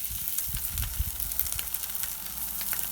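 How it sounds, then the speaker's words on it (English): Small smelts fry over high heat in a pan previously used for deep-fried fish, giving a loud, continuous crackling sizzle with dense popping throughout, close up and without talk. "I love that sizzle."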